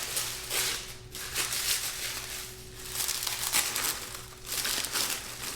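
Plastic packaging on a Benchmark humidor is torn open with loud crinkling and crackling rustles arriving in several bursts, close up and steady with no talking.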